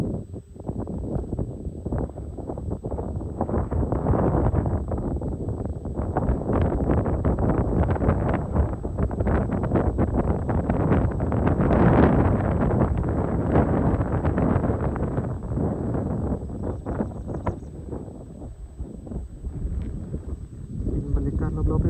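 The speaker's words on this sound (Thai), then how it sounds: "ลมพัดเย็นสบาย" Cool wind blows over hillside rice fields, a steady broadband rush buffeting the microphone for the whole stretch and rising slightly in the middle.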